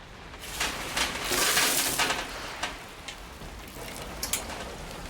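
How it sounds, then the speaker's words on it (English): Heavy rain pours in a film scene, a dense steady hiss that swells in the first half, with scattered sharper drop impacts later and no voices. "It's only rain, a sheet of rain."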